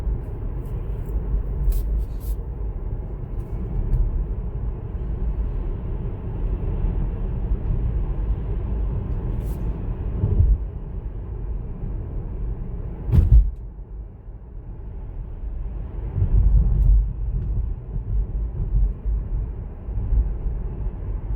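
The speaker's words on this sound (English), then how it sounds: "So it speeds up really nicely too, quickly" Inside a Tesla Model S electric car on a test drive, a steady low road rumble and hum carries throughout, with a few soft thumps along the way and no engine roar.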